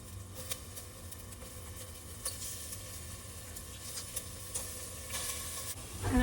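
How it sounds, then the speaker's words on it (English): Crumbled tofu sizzles in olive oil in a pan while being stirred, a steady low frying hiss broken by light scraping clicks and taps, fairly quiet and close, with a louder burst of stirring at the end. "Now I'm crumbling up the tofu into pretty small pieces because we want like kind of small chunks of it to mimic ground"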